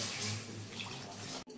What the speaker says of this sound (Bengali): এইবার আমি জল দিচ্ছি, অল্প অল্প করে জল দেব